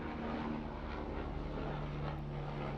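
A police helicopter drones overhead in a steady, continuous rotor and engine hum, fairly loud and unchanging for a few seconds with no speech over it.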